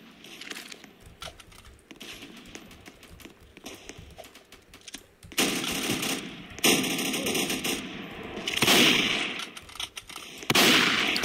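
Rapid gunfire fills the Roblox shooter Strucid: dense bursts of automatic shots, near and loud, start and stop in several bursts, with quieter tapping between them.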